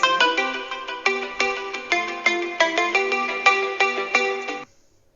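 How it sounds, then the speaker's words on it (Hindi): A phone ringtone chimes through a yoga session, a bright repeating melodic pattern that plays loud and steady for several seconds before cutting off abruptly into silence. "क्षमा चाहता हूं, बीच में फोन आ गया।"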